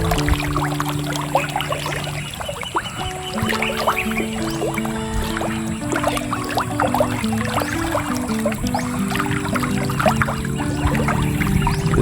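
Tilapia splash and churn the water of a fishpond while feeding, a steady close watery sloshing and dribbling that goes on throughout, with a faint tonal hum in the background.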